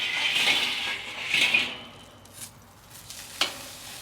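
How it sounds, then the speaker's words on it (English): Wagyu tri-tip sears on a Slow 'N Sear kettle grill with a soft, hissing sizzle. A few light metallic clinks and scrapes from utensils come and go close by. "we're gonna start searing right away"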